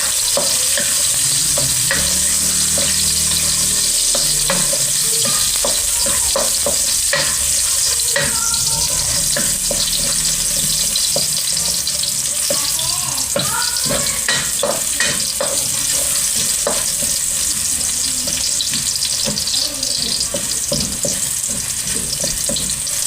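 Whole garlic cloves frying in oil until golden brown, a continuous loud sizzle with stirring clatter and scraping throughout, no talking.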